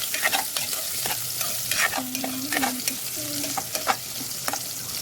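Onions sautéing in a pan for Filipino pinapaitan, a steady close sizzle broken by repeated scraping stirs of a utensil against the pan, with no talking.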